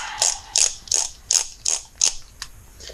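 Six quick ratchet bursts from a wrench torquing the camshaft cap bolts on a 2009 Kawasaki ZX-10R engine, evenly spaced clicking strokes close up with a faint seventh, no talk.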